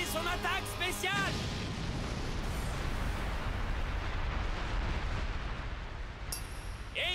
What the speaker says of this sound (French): Explosion dévastatrice de Léon!